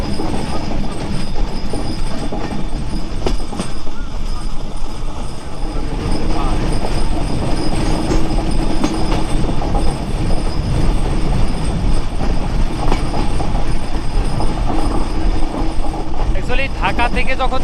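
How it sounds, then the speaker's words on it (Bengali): The Madhumati Express rumbles along the line from Rajshahi to Dhaka, its wheels keeping up a loud, continuous clatter of rhythmic clicks, with brief squeals near the end. "এই ট্রেনটা কিন্তু নিয়মিত এইভাবেই চলাচল করে"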